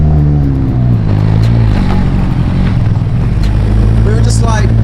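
A Hillman Imp race car drifting, its engine droning loud and steady with a strong low rumble and shifting revs throughout, close by.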